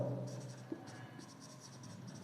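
Chalk or marker scratching across a board during a Hindi thermodynamics lecture, a quiet run of short, rhythmic strokes close by with no voice over it.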